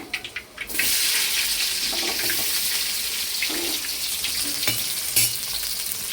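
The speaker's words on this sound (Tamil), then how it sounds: "பார்த்தீங்கன்னா வெந்தயம்லாம் நல்லா பொரிஞ்சிருச்சு இப்போ கட் பண்ணி வச்சுக்கிற வெங்காயம் சேர்த்துக்கலாம்" Chopped onions hit hot oil with crackling fenugreek seeds at about 0.8 s, setting off a loud, steady sizzle that continues close up to the end, with a few small clinks and pops over it.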